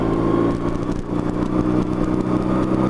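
A motorcycle engine runs steadily and close, throttle rising gently from a low pull through the clutch friction zone before easing toward a shift into second gear, with a continuous mid-pitched drone.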